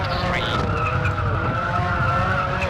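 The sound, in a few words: car tires squealing on tarmac in WRC II Extreme video game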